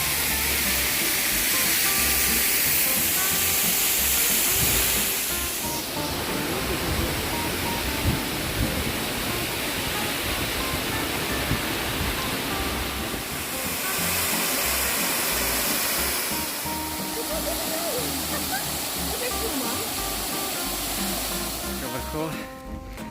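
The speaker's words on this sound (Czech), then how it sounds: "Vodopády" Waterfalls and cascades in the hills above Nice make a steady, broad rushing roar that fills the whole stretch, swelling slightly at moments, with possible faint voices beneath.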